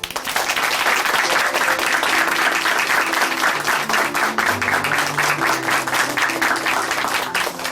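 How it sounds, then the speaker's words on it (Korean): Sustained congregational applause at a Korean church service for a man who has just given his testimony, dense and steady throughout, with faint music or a low sustained tone entering in the background partway through. "오늘 귀한 간증 들려주신 이정균 형제님께 다시 한번 박수 보내드리겠습니다"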